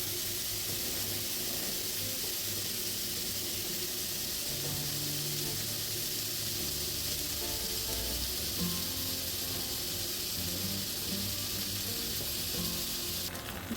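Burger meat sizzles in a pan with no oil, a steady, even hiss and crackle that holds without a break and stays moderately quiet and close.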